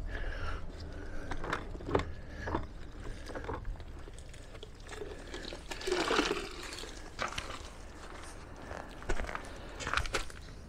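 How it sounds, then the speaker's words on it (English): Car wash mitt being sloshed and rinsed in a water bucket fitted with a grit guard while detailing a Peugeot 308: soft, irregular splashing and dripping water, close and fairly quiet, with no talking. "Give it a good rinse off in the grit bucket"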